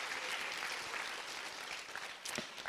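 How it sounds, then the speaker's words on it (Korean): Sustained applause from an audience of youths at a Daegu youth workshop talk concert with the city mayor, steady clapping throughout with a slight swell near the end. "여러분 박수 부탁드릴게요."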